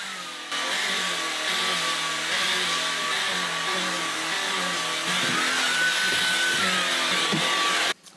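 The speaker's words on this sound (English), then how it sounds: "I will vacuum the carpets in here as well" A vacuum cleaner runs over carpet in a home, a steady close motor drone with a high whine that shifts slightly in pitch midway before cutting off abruptly at the end.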